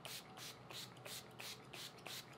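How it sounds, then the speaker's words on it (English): A makeup setting spray mist is pumped onto a face in quick repeated spritzes, about six short hissing bursts in a steady rhythm, faint and close. "I will spray with some all-nighter."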